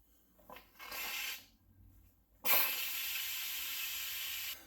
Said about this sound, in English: We have released the steam.